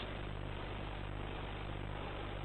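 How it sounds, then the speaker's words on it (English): Diesel engine of a 1940s railcar-type train idling steadily after starting, a constant low drone with faint mechanical rattle, heard alone and at a moderate distance. "Start the second engine in the same way as the first."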